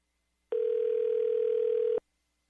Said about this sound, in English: I'm going to call him right now. It's funny, for his phone number, you just have to dial 3 numbers and it goes straight to him.